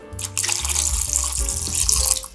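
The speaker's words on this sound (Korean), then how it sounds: "따끈한 물을 부셔서 더 문질러 주세요" Warm tap water runs steadily into a sink while fresh ginger is scrubbed and washed under it, a close, continuous splashing stream with soft rubbing and shifting flow, and no voices.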